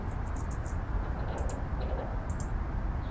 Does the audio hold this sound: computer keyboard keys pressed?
yes